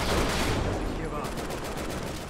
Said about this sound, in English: We have to shoot him off or he'll bring us down!